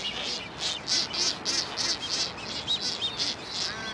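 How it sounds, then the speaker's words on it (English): Waved albatrosses on the Galapagos Islands give a regular series of shrill, rhythmic calls, about a dozen evenly spaced pulses, over a steady background hiss. "Among the most dedicated parents are the elegant waved albatrosses."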